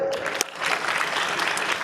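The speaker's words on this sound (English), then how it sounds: "Give a round of applause to whoever has spoken for that." Audience applause at an orientation programme, a dense burst of many hands clapping together, steady and fairly close, sustained through the short stretch after one sharp initial clap.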